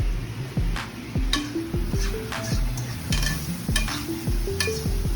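Vegetables sizzle and fry in a pan as a utensil stirs and scrapes them in repeated strokes, with light clinks of metal against the pan; steady close frying noise with no talking.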